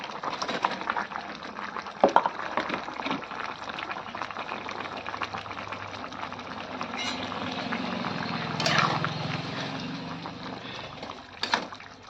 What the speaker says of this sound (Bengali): দেখো জলটা কিন্তু ভালো করে ফুটে গেছে